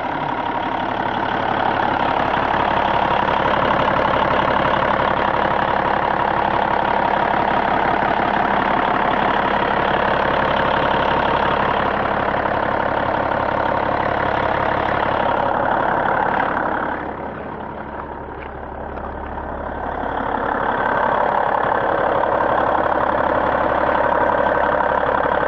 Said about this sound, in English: You can hear the engine running here.